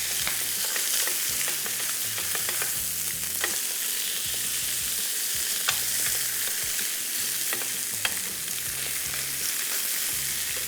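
Boneless chicken leg meat frying in a grill pan, a continuous crackling sizzle with scattered sharp pops and a low rhythmic hum beneath, steady and close.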